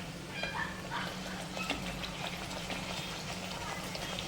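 Spicy Maharashtrian tikhat puri sizzles and bubbles in hot frying oil, a steady crackling hiss with small pops, while someone talks over the frying.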